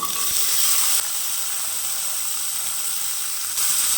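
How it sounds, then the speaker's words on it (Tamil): Small onions tossed into hot oil where mustard seeds have just popped, while cooking sambar; a steady, close, bright sizzling hiss that runs the whole time, a little louder at the start and end, with no talking. "நம்ம கட் பண்ணி வச்சுருக்கிற சின்ன வெங்காயத்தை இது கூட சேர்த்துக்கலாம்."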